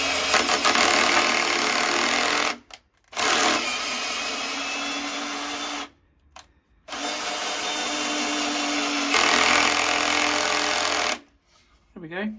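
Power driver running a screw out of and back into flat pack furniture, several whirring bursts of a few seconds each separated by short pauses, close and fairly loud.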